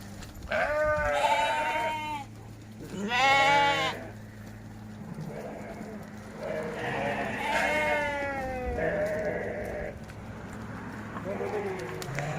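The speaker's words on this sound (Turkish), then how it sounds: "Nereye gitse koyunlar oraya gidiyormuş" Several sheep bleat loudly near and farther off in a market setting, repeated wavering calls over a steady background hum, with people talking in between.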